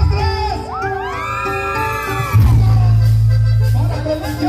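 A crowd at a sonidero dance party shouts and cheers together, loud and close, with voices swelling into a sustained collective yell partway through.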